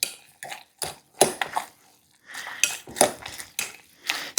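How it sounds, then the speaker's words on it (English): Eggs being stirred into a twice-baked potato filling in a bowl, a series of separate clinking and scraping utensil strokes with short pauses between them, no voices. "Let's stir these eggs in."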